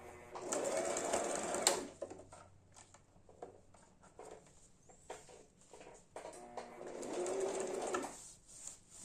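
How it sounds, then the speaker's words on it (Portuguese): Sewing machine stitching a basic fabric toiletry bag, with two loud, steady runs of rapid mechanical whirring, each a couple of seconds long, separated by quieter handling and fabric shuffling. "Vamos costurar."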